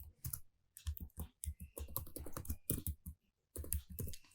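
Quick bursts of computer keyboard typing, close and crisp, with clustered keystrokes separated by short pauses and no voices.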